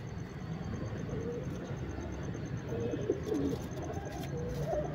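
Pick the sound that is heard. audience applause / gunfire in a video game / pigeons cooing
pigeons cooing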